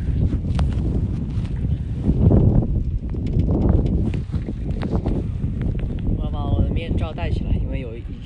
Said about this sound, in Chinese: 开始有风在呼呼的吹了。